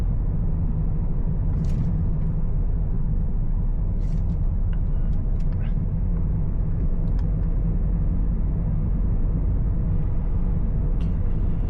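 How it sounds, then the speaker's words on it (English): Steady low road rumble of heavy traffic on Makkah Road in Riyadh during morning rush hour, heard from inside a moving car, continuous and fairly loud with a few faint brief hisses. "There's also a lot of traffic"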